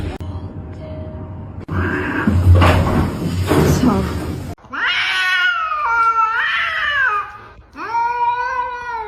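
A kitten meows in loud, drawn-out cries close by, with a rustling, bumping stretch before them and a person speaking at times.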